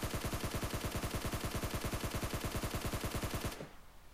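Automatic gunfire in PUBG Mobile, fired while prone, comes as one long rapid burst of about forty evenly spaced loud shots. It cuts off abruptly after three and a half seconds into a short fading tail.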